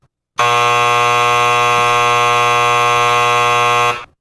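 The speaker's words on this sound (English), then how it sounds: "that's a long buzzer" A loud, harsh electronic buzzer drones continuously for about three and a half seconds at steady volume, then cuts off abruptly.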